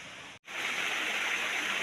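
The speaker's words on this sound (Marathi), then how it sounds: "हा बारमाही वाहणारा नाला आहे" A perennial stream runs through a forest range, its water rushing in a steady, full hiss that breaks off for a split second near the start and then continues unbroken, with no voices.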